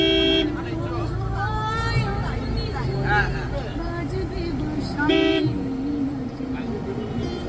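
E-rickshaw traffic jam on a narrow town street near a temple, with repeated short horn toots, idling vehicles and nearby voices and crowd babble throughout.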